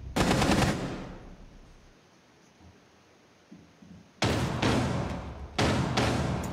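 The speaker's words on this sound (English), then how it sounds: "Buck's still up there shooting at the floor" Bursts of automatic gunfire in Rainbow Six Siege as an operator fires down into the floor, one loud burst at the start, a quiet gap, then two more heavy sustained bursts near the end.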